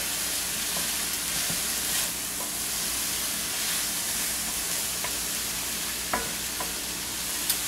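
Farm-fresh vegetable succotash fries in a pan, a steady close hiss and sizzle with scattered scrapes and taps of stirring, no talking.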